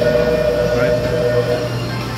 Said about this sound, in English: Oh, this is my train.